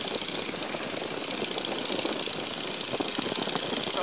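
A Boeing Stearman PT-17 biplane's radial engine drones steadily in flight, loud and close from the cockpit, with a dense, rough, continuous roar and no talk over it.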